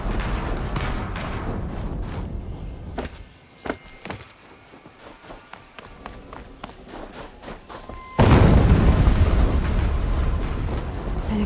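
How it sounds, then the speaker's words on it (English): Explosion in the video game Horizon Zero Dawn Remastered at a massive ruined dig site: a sudden loud blast of roaring noise bursts in partway through over rumbling ambience and scattered thuds, then sustains as a heavy wash of sound. "An explosion."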